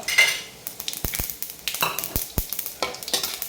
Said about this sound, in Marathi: हे बघा जिरीचा पण आपण असा तडका देऊन घेऊ